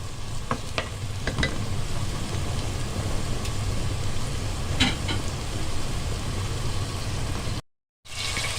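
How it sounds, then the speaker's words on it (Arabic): Minced chicken sears with onion in a hot pan, a steady close sizzle and crackle running throughout, broken by a few brief utensil clicks and a short dropout near the end. "بعد كده احط الفراخ اللي انا فرمتها في الكبه، ما نقلبش فيها كتير لغايه ما تاخد صدمه"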